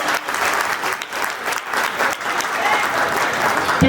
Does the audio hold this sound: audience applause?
yes